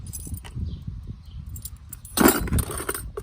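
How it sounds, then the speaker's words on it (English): Old skeleton keys jangle and clink in a brief metallic burst near the end, close and fairly loud over a low room rumble, with faint handling sounds before. "Some skeleton keys."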